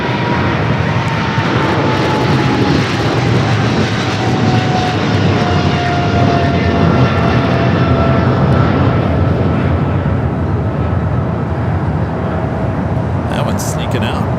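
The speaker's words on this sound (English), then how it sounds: "Japan Airlines flight 62, the second flight of the day. Coming up from Japan, the 787-9 Dreamliner" A Japan Airlines Boeing 787-9 Dreamliner, a heavy arrival from Japan, lands at Los Angeles International Airport with a loud continuous engine roar and a slowly falling whine throughout. A commentator talks over it at times.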